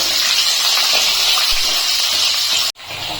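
Small diced potato pieces fry in hot oil with a loud, continuous sizzling hiss that cuts off abruptly near the end, then resumes softer.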